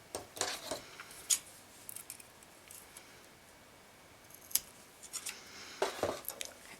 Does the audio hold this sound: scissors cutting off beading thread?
yes